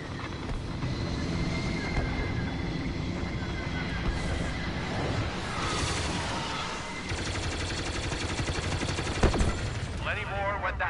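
Starfighter blaster fire in Star Wars Battlefront 2 rattles through a dense space battle, with rapid pulsing bursts layered over a constant roar of engines and explosions. A sharper crack stands out near the end.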